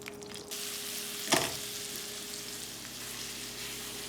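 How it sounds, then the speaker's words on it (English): Steak sears in grapeseed oil, a steady hissing sizzle with a brief louder burst of spatter near the start before settling into an even fry. "we're gonna sear up the steak now"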